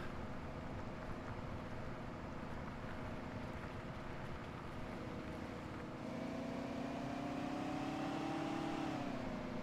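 Big, massive tractor engine in the Farming Simulator 17 video game, a steady loud diesel drone running throughout, its pitch rising slightly near the end as it revs.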